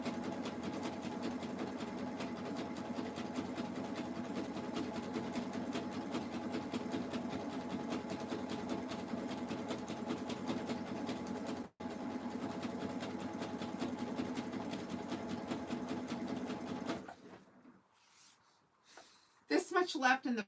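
A sewing machine hums steadily at an even, continuous speed while stitching a jelly roll fabric rug, then stops near the end, leaving quiet rustles and a brief burst of sound.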